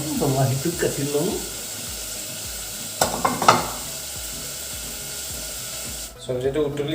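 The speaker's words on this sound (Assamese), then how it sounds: "চব্জিটো উতলি আছে" Vegetable curry bubbles and sizzles softly in a pan, with a few brief clatters partway through; a person speaks at the start.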